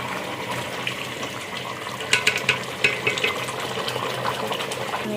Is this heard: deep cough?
no